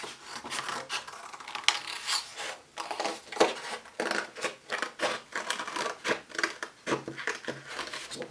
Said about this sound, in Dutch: Ik ga dat gewoon uitknippen.